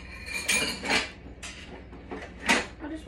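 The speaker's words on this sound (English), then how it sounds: "I'll just wash this one off." A small kitchen knife clinks and scrapes against a sink basin while being washed, with a few sharp metallic knocks and handling noises over a quiet background, no talking.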